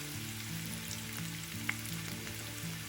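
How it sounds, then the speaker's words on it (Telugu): Onions and green chillies fry in hot oil for a chicken fry, a dense, close sizzle with light stirring scrapes and one brief clink, steady throughout with no talking. "ఇప్పుడు గోల్డెన్ బ్రౌన్ కలర్ వచ్చే వరకు వీటిని బాగా వేయించుకోవాలి."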